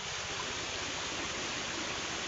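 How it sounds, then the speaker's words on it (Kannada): The Aghanashini river, flooded in monsoon rain, rushes past in a fast, powerful current, a dense, constant roar of water that fills the whole stretch without a break. "ಅಲ್ಲಿ ನದಿಯ ಸೆಳವು ಎಷ್ಟು ವೇಗವಾಗಿದೆ ಅಂತ"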